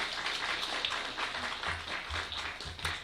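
Audience applause during a Sunday morning church worship service at Saeyoung Church, a steady wash of many hands clapping together with a few sharper claps standing out, moderately loud and continuous throughout.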